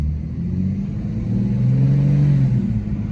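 A car with an aftermarket throttle controller set to sport mode 6 accelerates: a loud, steady engine rumble rises in pitch as it revs, close by and without talk.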